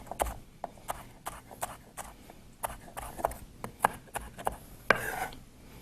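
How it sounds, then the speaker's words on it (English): A knife chops carrot and zucchini on a cutting board in a steady run of sharp, close taps, about a dozen strikes with a slightly heavier one near the end, with no talk over it. "remember when you're chopping that you don't want your fingers in there"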